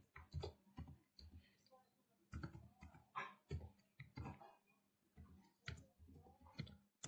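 Typing a ChatGPT prompt on a computer keyboard: quiet, irregular clusters of light key clicks with short pauses between bursts, close and soft.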